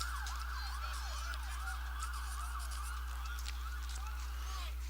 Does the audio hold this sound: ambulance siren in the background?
yes